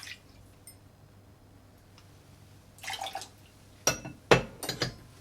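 Pineapple juice for a Painkiller cocktail is poured into a glass in short, splashy bursts, with a few faint clinks before and sharp liquid gurgles toward the end in an otherwise quiet room.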